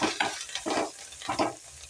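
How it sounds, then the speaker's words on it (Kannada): Spices for dal tempering crackle and sizzle in hot oil as they are stirred, giving a close, bright hiss that comes in short bursts with each stir. "ಈಗ ಒಗ್ಗರಣೆ ಕೊಡಮ್ರಿ"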